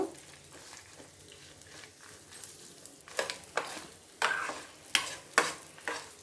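Lentils with a little turmeric being stirred in a pan for coconut chutney, a quiet low sizzle at first, then several distinct scraping stirs with sharp bursts in the second half, close and without talk.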